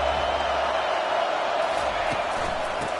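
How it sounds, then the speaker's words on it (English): A stadium crowd at a college football game between Texas A&M and LSU roars loudly and continuously, a dense, steady wall of cheering with commentary voices faintly beneath. "This crowd bringing an ear-splitting welcome to their visitors."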